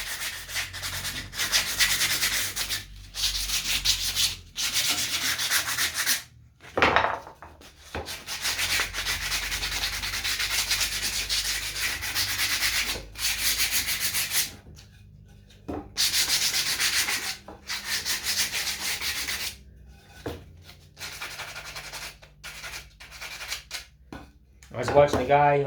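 Hand sanding a wooden American flag, a steady scratchy rubbing in repeated strokes with brief pauses between passes, close and fairly loud throughout.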